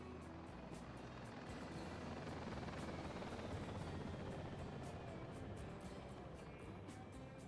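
A KA-50 helicopter flying in a helicopter combat video game, a faint steady rotor and engine drone with periodic blade-slap pulses, continuous and distant-sounding throughout.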